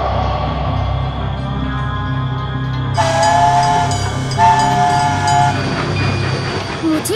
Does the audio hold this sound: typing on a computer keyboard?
no